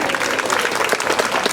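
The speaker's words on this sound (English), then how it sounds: "Let's give our queens another round of applause." Audience applause at a live drag performance, a dense steady patter of many hands clapping close by without pause.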